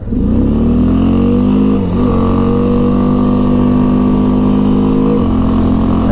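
A 2005 Honda Rincon 650 4x4 ATV on a test drive accelerates hard, its engine revving up loud and close, the pitch climbing steadily with a brief dip between rises as it shifts gears.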